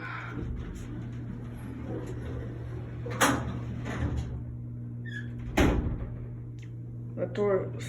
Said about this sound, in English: That door is loud.